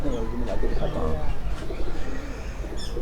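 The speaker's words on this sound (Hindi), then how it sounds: "वो जो कबूतर नीचे फिर रहा है" Breeder pigeons coo softly amid busy background noise and murmuring voices nearby.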